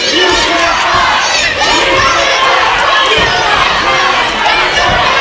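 Raucous crowd at the Orville venue roars and cheers during a preliminary pro wrestling match, a loud, dense, unbroken wall of shouting voices throughout.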